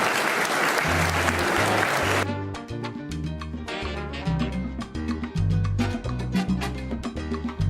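Loud audience applause greets Turkey's first professional aerobatic pilot as he is called on stage at a hosted event, a dense clapping burst lasting about two seconds before giving way to music.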